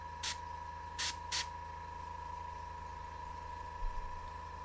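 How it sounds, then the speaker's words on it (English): An airbrush fires three short, crisp bursts of paint while glazing a painted figure. The first burst is alone and the next two come quickly together, all over a faint steady hum in a quiet room. "Kind of sprayed the bottom side of that"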